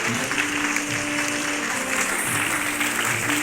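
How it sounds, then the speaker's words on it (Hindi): Applause rising from an audience at an award recognition ceremony, with steady dense clapping sustained throughout over a faint musical tone in the background. "एक बार जोरदार तालियां"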